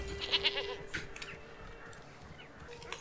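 Goats in the medieval village-building video game Manor Lords bleat faintly in the background. A couple of brief, distant calls come early, over soft ambient game noise.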